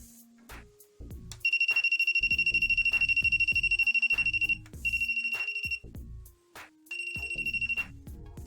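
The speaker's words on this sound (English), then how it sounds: "the voltage tester is ringing without touching the glass" A handheld voltage tester rings near the glass of a Keshe magravs plasma generator, sounding repeated shrill electronic beeping bursts, three separate runs of rapid tones over a low intermittent hum, close and alone.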